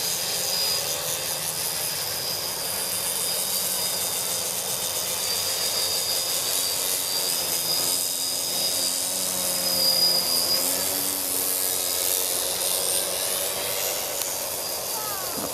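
A small drone fitted with an LED light strip flies around a backyard, its high, whining rotor buzz steady and fairly close, shifting slightly in pitch as it moves.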